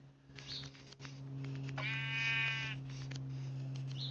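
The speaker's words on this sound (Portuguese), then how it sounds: "outra ovelhinha perto da nossa casa" A sheep in Minecraft Pocket Edition gives a clear, buzzy bleat in the middle of a steady electronic hum, fairly close but quiet, with no talking.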